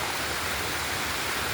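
A waterfall hisses as a soft, even wash of falling water in the background, constant and unbroken through a brief moment with no talking.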